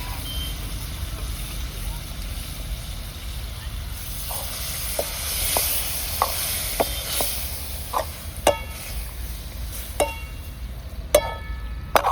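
Goat tripe (vajdi) stir-fried in spiced masala gives a steady low sizzle, broken by a run of sharp metallic spatula clinks and scrapes that grow more frequent toward the end.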